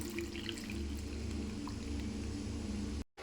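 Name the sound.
water poured into beetroot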